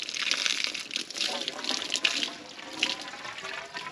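Creek water pours and splashes into a transparency tube at Shakopee Creek, a continuous bright gushing close by that surges and eases in spurts, with faint outdoor background beneath.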